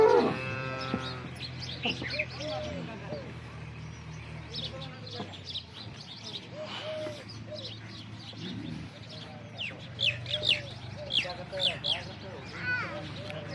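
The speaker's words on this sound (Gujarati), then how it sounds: "તમામે તમામ બનાસકાંઠાની લોકલ ગાયો છે આપણી પાસે" Local Banaskantha cows low in repeated drawn-out moos, mixed with nearby human voices and some bird cooing in an open farm setting.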